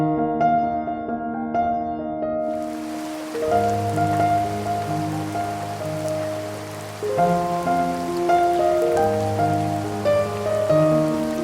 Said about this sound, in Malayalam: പുറത്തിപ്പോൾ നല്ല മഴ ആയതുകൊണ്ട്